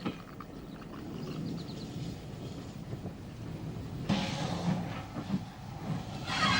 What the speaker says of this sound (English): U-Class number 67 Louth leaves the station and heads for the shed at Adelaide.